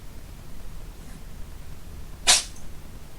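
A single short, sharp sneeze bursts out in a quiet room during a crochet lesson, brief and fairly close, with faint background hiss before and after.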